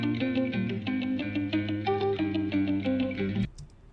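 A distorted, chorus-soaked guitar loop from a sample library plays a steady repeating pattern of sustained chords, moderately loud and alone, then cuts off abruptly near the end.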